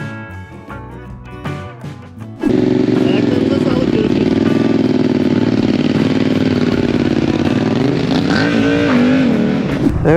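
Motorcycles of every engine size gathered at a rainy group breakfast ride to Şile, engines roaring loudly and steadily after a sudden start, a sustained close drone with rising revs near the end.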